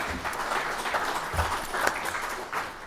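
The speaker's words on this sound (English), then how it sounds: "How about one more round of applause for all of our speakers?" Conference audience at a session on rubberized asphalt applauding the speakers: steady, dense clapping from a sizable crowd, sustained throughout at an even level.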